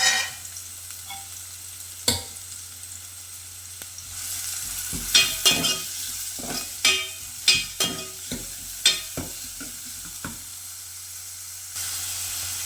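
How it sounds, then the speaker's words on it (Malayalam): Onions dropped into hot oil in a pan and stirred, a sharp burst of sizzle followed by a string of close spatula scrapes and clanks over continuous frying hiss, with no talking. "നമ്മുടെ എണ്ണ നന്നായിട്ട് ചൂടായിട്ട് വന്നിട്ടുണ്ട്. ഇനി ഇതിലേക്ക് നമുക്ക് ഉള്ളി ഇട്ട് കൊടുക്കാം കേട്ടോ."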